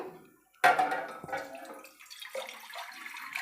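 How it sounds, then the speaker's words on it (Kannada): Water is poured from a glass into a pan set up for cooking gorikayi (cluster beans), starting abruptly after a moment of quiet as a close, splashy pour that settles into a softer trickle over a few seconds. "ಒಂದು ಗ್ಲಾಸ್ ಆಗೋಷ್ಟು ನೀರು ಸೇರಿಸ್ಕೊಂಡಿದ್ದೀನಿ"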